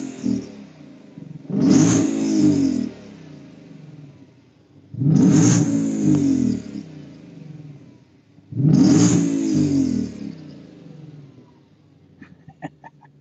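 A 2020 Ford Mustang Shelby GT500 engine revs hard three times in succession, each roar rising sharply and holding for about a second before dropping back to idle.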